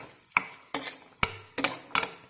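A spoon scrapes and knocks against a pan while peeled garlic cloves are stirred into a tomato curry, five or six distinct clinks spaced about half a second apart over a faint sizzle.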